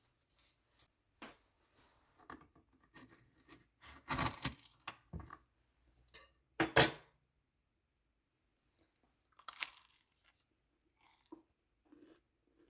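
Crispy puff pastries (feuilletés) handled and crunched up close, giving scattered crackly bursts with two louder crunches near the middle and lighter rustles between, no talking.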